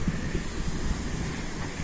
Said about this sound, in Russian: Море штормит